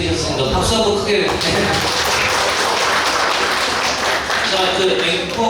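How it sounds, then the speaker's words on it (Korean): Loud, sustained applause from an audience at a regional forum event, a dense even wash of clapping that briefly follows someone speaking. "팬들을 받으셨으니까 박수 한번 크게."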